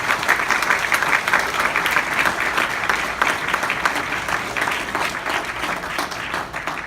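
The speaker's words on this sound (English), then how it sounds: "give yourselves a big round of applause" Banquet audience breaks into applause at an awards dinner, a dense, continuous burst of many hands clapping that stays strong and steady before easing slightly toward the end.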